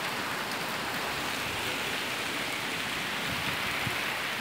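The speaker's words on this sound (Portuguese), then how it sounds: "Mas essa chuva é tudo de bom." Steady afternoon rain falls, a dense, even hiss of drops on surfaces throughout, with no voices.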